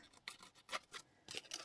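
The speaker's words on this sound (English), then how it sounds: "at the moment scissors work just as well for me. I just want it to be a bit rough" Scissors scuffing and scraping along paper edges to rough and distress them, several short, close, soft rasping strokes in quick succession, faint and without talk.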